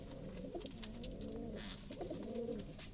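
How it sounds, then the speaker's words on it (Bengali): Pigeons coo softly and steadily in a village loft on a hot day, a low, continuous murmur of overlapping coos, faint and close. "কবুতরগুলোর কাছে"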